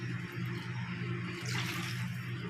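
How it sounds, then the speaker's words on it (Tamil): Water poured into a hot pan of spiced masala for vermicelli biryani, giving a steady rushing gush with a brief brighter splash midway, close and moderately loud. "இப்போ நம்ம தண்ணி சேர்த்துக்கலாம்."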